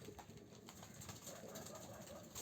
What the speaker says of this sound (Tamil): பழைய புறா.